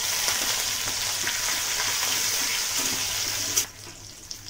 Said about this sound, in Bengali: আমি দিয়ে দিচ্ছি ক্যাপসিকাম